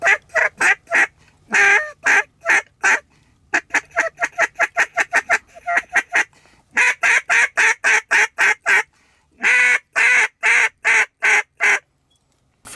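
A hand-blown duck call imitates duck quacks in rapid, loud rhythmic series of short notes, with brief pauses between sequences, close and alone without talking.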